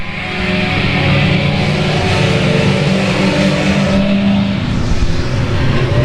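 Stock cars at South Texas Speedway during a street stock feature in 2016, several engines roaring loud and continuous as the pack runs together, a steady dense drone with no talk over it.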